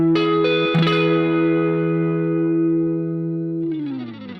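An electric guitar chord rings out with chorus and light distortion, a short pick attack near the start and then a long sustained, shimmering decay that changes slightly before fading.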